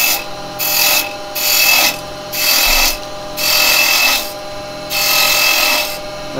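Wood spinning on a lathe is cut back with a carbide chisel in five or six even, rasping passes, each about a second long, loud and close with a steady tonal hum beneath.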